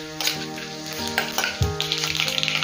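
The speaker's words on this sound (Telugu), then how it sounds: "మినపప్పు, శనగపప్పు, జీలకర్ర, ఆవాలు అన్నీ కూడా యాడ్ చేసేసుకొని కొంచెం బాగా ఫ్రై చేసేసుకుందాము" Urad dal, chana dal, cumin and mustard seeds frying in hot oil as a tempering, with bright crackling sizzle and sharp pops, likely from stirring, over a steady hiss and a faint tonal hum.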